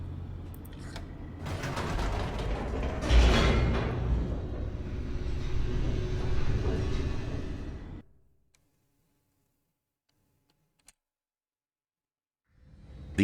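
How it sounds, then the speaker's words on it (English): Elevator descending in The Stanley Parable: loud mechanical rumble with creaks and grinding for about eight seconds, then a sudden cut to near silence with a single tick before the rumble returns at the very end. "The elevator raced downward, plummeting towards an unknown fate."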